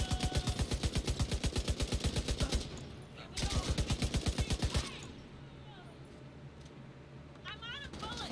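Two long bursts of rapid automatic gunfire in The Division 2, each a fast, even rattle of loud shots, separated by a short pause and followed by quieter game ambience with a brief voice near the end.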